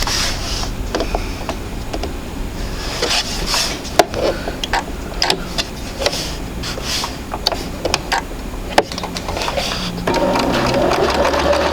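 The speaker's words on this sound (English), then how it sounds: "So when we sew, we're going to sew down" Sewing machine stitching a quarter inch seam on an intermediate sampler quilt block, running as a steady close whir for the whole stretch with a few sharp clicks and a louder shift near the end.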